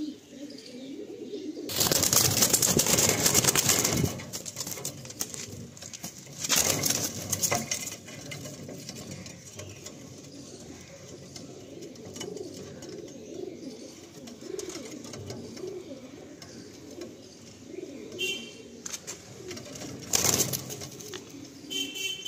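Loft pigeons coo in low, rolling phrases, broken by a few loud bursts of fluttering and rustling nearby.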